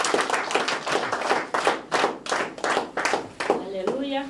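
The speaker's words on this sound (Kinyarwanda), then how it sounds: "Urakoze Kristo, tumukomere amashyi." A church congregation claps in unison during a Kinyarwanda worship service, giving a steady rhythm of sharp, close hand claps about twice a second with voices underneath, ending on a brief sustained musical tone.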